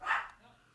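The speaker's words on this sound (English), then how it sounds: "I hear her barking" A dog gives a single short bark in a game scene, fairly close and moderately loud, fading into low background sound.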